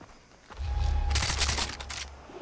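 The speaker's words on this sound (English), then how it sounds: "these guys are shooting at me now" Enemy gunfire in Far Cry 3: a dense burst of shots breaks out about halfway through, loud and close, then trails off into rumbling background noise with no talk over it.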